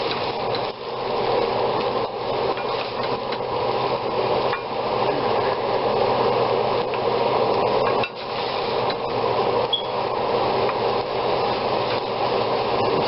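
A kitchen fan runs while schnitzel and zoodles cook in a pan, giving a loud, steady broadband whoosh for the whole stretch with faint clinks and clatter of cookware, briefly dipping twice.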